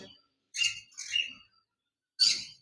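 A pair of lutino opaline lovebirds gives three sharp, close chirps, two in quick succession and a third after a short pause, with silence between.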